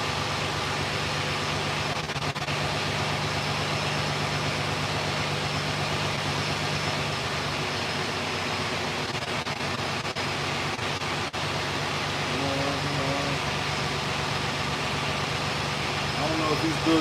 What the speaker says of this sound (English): I don't want to talk over this loud truck.